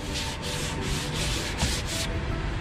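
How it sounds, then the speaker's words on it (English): An antique wooden folding chair being sanded by hand to strip old polyurethane: loud, close, rhythmic back-and-forth rasping in about six even strokes, with no voices. "I'm gonna sand this whole thing."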